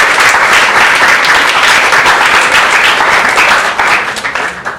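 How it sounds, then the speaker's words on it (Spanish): A hall full of people at a church dialogue event breaks into loud, sustained applause, a dense, even wash of clapping that stays strong for several seconds before thinning out at the end. "le dejo al reverendo Juan Ángel Gutiérrez, que lo recibimos con un aplauso."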